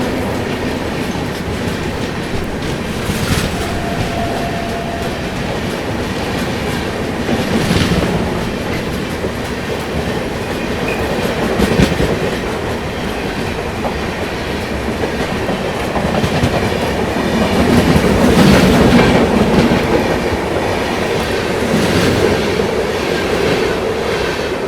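New Delhi–Lucknow Gomti Express rolling past, a steady rumble of wheels on rails with rhythmic clickety-clack joints recurring through the pass, loud and close throughout with no talk.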